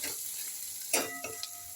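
Spices being stirred into okra in a hot frying pan give a steady close sizzle, with a few brief scraping clicks of the spoon partway through and no talking.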